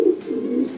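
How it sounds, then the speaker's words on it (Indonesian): A pet pigeon named Ucup coos close by, a low throaty hum that swells and rolls over a bit under a second, heard alone with no other sounds. "merpati kesayangan saya"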